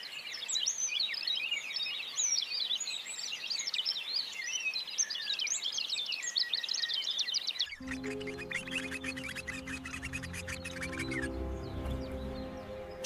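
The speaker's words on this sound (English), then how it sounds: "Chirping, natural bird sounds" Birds chirp and twitter busily on the African savanna, a dense chorus of high calls that gives way to a mix of softer calls over a low steady background, with no talking.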